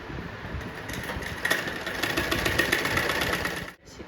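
A sewing machine runs continuously close by, stitching the folded hem of a zipless nightdress, with a steady rapid mechanical hum for nearly four seconds that stops abruptly near the end.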